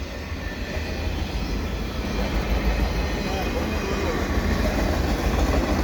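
A long freight train of empty auto-rack cars rumbles past close by with a steady low roar and rolling wheel noise, as people chat over the din.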